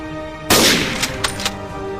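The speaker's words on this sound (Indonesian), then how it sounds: "Namun tiba-tiba peluru menembus dadanya." Gunshot sound effect in a motion comic: one sudden, loud broadband blast that rings out and decays, followed by a few smaller sharp cracks trailing off over the next second.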